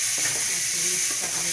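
Ridge gourd and spices stirred together in a hot pan, a steady sizzling hiss with faint, soft scraping of the spoon beneath it, brief and close.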